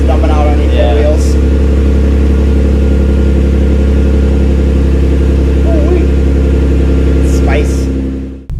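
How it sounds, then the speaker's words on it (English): A Lexus SC300 with a custom-made exhaust rumbles at a deep, throaty idle, loud and steady, close up, with brief voices and faint background sounds over the drone before it cuts off. "It's a lot more deeper and throaty."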